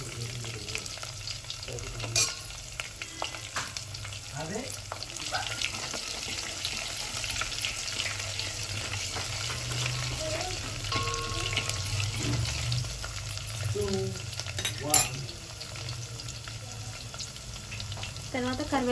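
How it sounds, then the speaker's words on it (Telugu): Garlic frying in oil for a raw-tamarind moong dal sizzles steadily at close range while a spoon stirs and scrapes the pan, with occasional clinks and a faint background hum. "ఎల్లిపాయలు వేసుకొని కలుపుకోవాలి."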